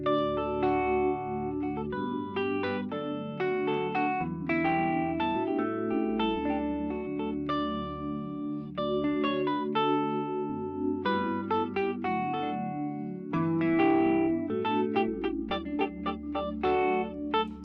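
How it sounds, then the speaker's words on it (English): Synth pad sustaining the chords of a gospel song, layered with keyboard notes, a steady full wash of harmony with echo and chorus, playing alone without talk. "let's hear how it sounds like with the pad"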